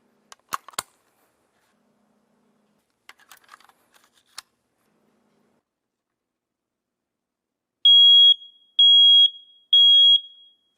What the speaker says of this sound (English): we do need to put the batteries in our smoke detector